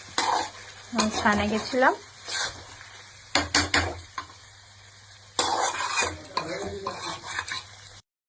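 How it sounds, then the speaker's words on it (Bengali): Chicken being sautéed and stirred in a pan, with bursts of scraping and stirring over a steady background hum, with some faint talk between the stirring strokes. "চিকেনটা কষানো চলছে"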